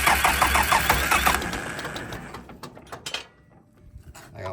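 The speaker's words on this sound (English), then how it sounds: "It's starting to want to run now." Massey Ferguson 180 diesel tractor engine turning over and catching during fuel-system bleeding, with a loud, rhythmic chugging at first that fades to sporadic knocks and sputters as it struggles to run.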